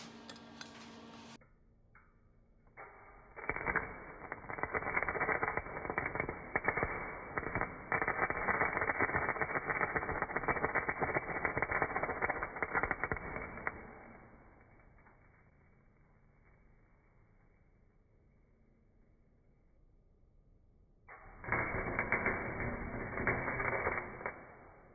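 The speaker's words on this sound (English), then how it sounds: "That was a not so magical sound of me piercing through the pipe." Metal pipe being pierced with a welding tool on a Power Wheels Ford F200 build, a steady crackling, buzzing sizzle lasting about ten seconds, a quiet stretch, then a shorter second burst of the same crackle.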